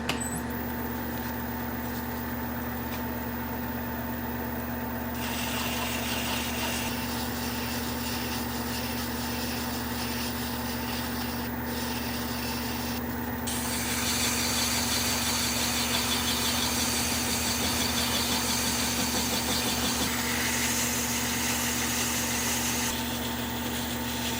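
A wooden goblet spins on a wood lathe while strips of 150 to 600 grit sandpaper are held against it, a steady motor hum with a constant hissing rasp that grows louder partway through.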